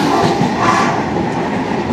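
Steady rumble and rattling clatter fill the interior of the moving 12665 Kanniyakumari SF Express passenger train in rain, a continuous loud close wash of wheel and carriage noise with no voices.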